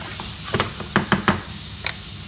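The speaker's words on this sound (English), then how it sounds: "so just going to stir fry them for a minute or two" Prawns stir-fry in a pan for chow mein, with a soft sizzle under a few quick utensil clacks and scrapes bunched together near the middle.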